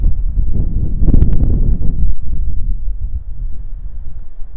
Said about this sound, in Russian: О-о-о, ветер!